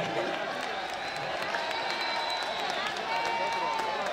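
Crowd applause and cheering at a trophy ceremony for YouTubers and streamers racing their own cars, steady and continuous with a busy background of voices throughout.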